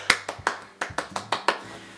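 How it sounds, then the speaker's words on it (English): Eight sharp hand claps in an uneven rhythm, close and fairly quiet, with no talking, as a round of applause during an unboxing of a Mystery Tackle Box fishing-tackle Christmas calendar. "round of applause"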